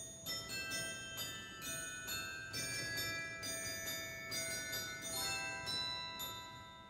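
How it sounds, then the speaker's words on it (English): A glockenspiel stop on the Kotzschmar pipe organ rings out a quick run of bright metallic bell notes, each struck tone sustaining and overlapping the next, played alone without any talk. "Here's a glockenspiel."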